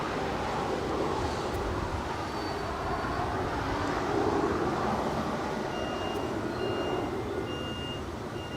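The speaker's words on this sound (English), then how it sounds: "That right there is United Express, operated by SkyWest Airlines, CRJ 200LR, coming in from Boise." A SkyWest-operated United Express CRJ 200LR regional jet taxis toward the south-side gates at Los Angeles International Airport, a steady broad engine rumble and whine at moderate distance, with faint intermittent reversing beeps from ground vehicles.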